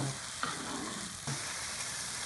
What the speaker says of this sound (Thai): แล้วก็คนครับ ให้มันสุกกับไม่ต้องสุกมาก